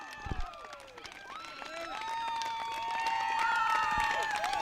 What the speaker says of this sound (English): She rounds the bases to thunderous applause